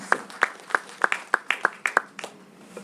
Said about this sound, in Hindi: जोरदार तालियां आप सबके हाथों से।